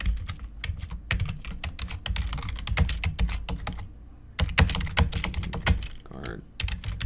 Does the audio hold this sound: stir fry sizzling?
no